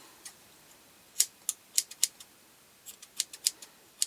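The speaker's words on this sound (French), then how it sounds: "Les ciseaux ils commencent à hacher plus qu'à couper." Scissors cutting cardboard, a string of short, crisp snipping clicks in two quick bursts, close and fairly quiet.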